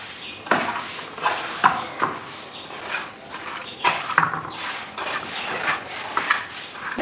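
Fish pieces being hand-mixed with chili powder, turmeric and salt for fish pickle, giving scattered close clinks and scrapes of a bowl and utensil in an irregular rhythm, with no talking.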